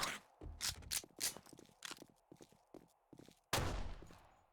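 Gunfire in the survival shooter 7 Days to Die, rapid loud shots in irregular bursts with brief gaps and a sharp final report, close and without talk.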